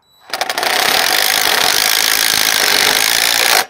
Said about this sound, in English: Now I've got my nut driver in my extension. 5/16 nut driver for 1/4-inch tap cons.